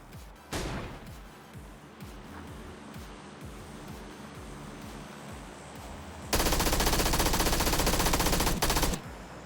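MP5K submachine gun fire in the video game PUBG, a short burst early, then a stretch of rapid shots over a low rumble, ending in a loud, dense sustained burst near the end.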